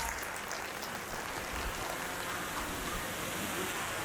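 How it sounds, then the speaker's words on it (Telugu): Sustained audience applause at a school event, a dense even patter of many hands clapping continuously at moderate level without pause. "వారికి కూడా క్లాప్"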